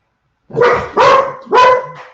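Several dogs bark three times in quick succession, loud and close, each bark a sharp harmonic burst with no talk over them.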